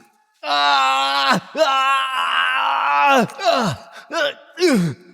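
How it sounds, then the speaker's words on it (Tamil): A man screams and groans in agony as he is tortured in a prison cell, several long, loud, strained cries close up, each breaking off into a falling wail, with short gasps between them. "வலியில் துடிதுடித்த வீரசிம்மனா அந்த நேரம் அலறுவதைத் தவிர வேறு எதையும் செய்ய முடியவில்லை."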